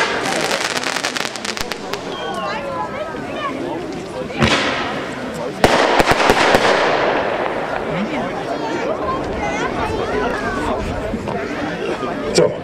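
Weco fireworks going off at an outdoor display in Franken, crackling bursts and whistling effects under a steady murmur of nearby spectators chatting, with a sharper bang midway.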